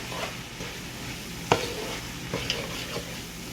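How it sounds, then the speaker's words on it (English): Flour stirred into cooked carrots in a soup pot makes a low continuous sizzle and shuffle, broken by a few brief clinks of the spoon against the pot, close and steady without speech. "stir it up."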